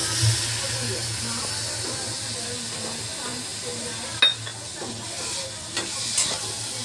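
Soaked black-eyed peas sizzle and sauté in a pan with spices, a steady frying hiss broken by occasional sharp clinks of a spoon stirring, with a voice talking over it.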